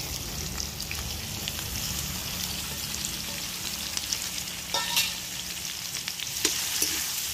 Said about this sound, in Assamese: ইয়াতে তেল পকি গ'ল আৰু ইয়াতে পিঁয়াজ দি দিছোঁ প্ৰথমতে পিঁয়াজ আৰু আদা